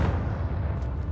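Confringo blasting spell going off in the Hogwarts Legacy video game, a dense low rumbling boom that fills the whole moment with no clear start or end, loud and sustained with no talk.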